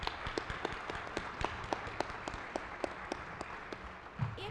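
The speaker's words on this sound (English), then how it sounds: "please join me in giving a round of applause to our panelists." Light, sparse clapping from a small audience at an economic panel event, greeting the panelists. Scattered individual claps, fairly soft and thin, continue throughout.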